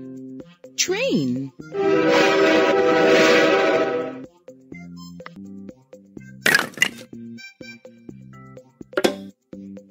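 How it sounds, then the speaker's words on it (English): Cartoon train sound effect from a kids' vehicle puzzle game, a rising whistle then a loud, sustained chugging rush lasting a few seconds, followed by clicks and plinking game tones, with speech around it. "Train."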